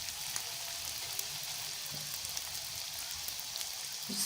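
Chicken rolls are being fried in oil, giving a steady, quiet, rain-like sizzle with faint crackles and pops scattered throughout and no voices.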